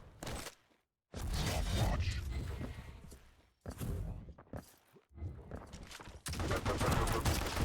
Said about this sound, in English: Just beautiful use of the HMG there.